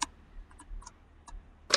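Gun reloading in the game Shell Shockers, a few faint clicks and ticks of mechanical handling followed by a sharper, louder snap at the end, with no voices.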